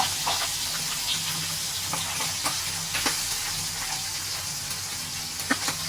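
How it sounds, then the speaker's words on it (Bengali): Tengra fish frying in hot oil, a steady, close sizzle and hiss that runs throughout, with scattered small pops and crackles. "আমি সুন্দর করে লাল লাল করে মাছগুলো ভেজে নিব।"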